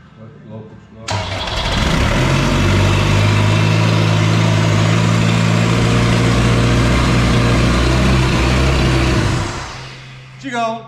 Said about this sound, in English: Right, so that works. It runs.